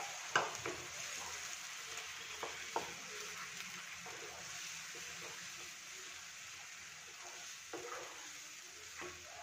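Prepared spice masala goes into a hot pan of peas and mushrooms, producing a faint, steady sizzle with a few light stirring clicks.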